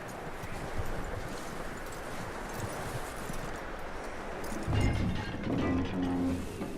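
Horse hooves clip-clop steadily in Red Dead Redemption 2, a faint even walking rhythm with outdoor ambience and some rustling, growing a little louder and fuller toward the end.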